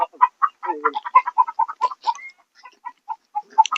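Desi chickens at a poultry farm clucking in quick, repeated bursts, close and fairly loud, with several birds overlapping and short gaps between calls, with no talk.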